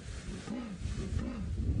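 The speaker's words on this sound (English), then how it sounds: "So this is a contact call that Shadow's doing" A leopard gives a contact call, a short sawing rasp repeated in a low rhythmic series, faint and somewhat distant against light outdoor wind noise during an evening safari drive.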